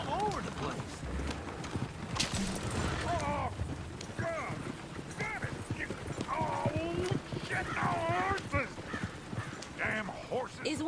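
Hooves clip-clop in a video game, a horse walking steadily close by while characters talk over the rhythmic clopping and a few other game sounds.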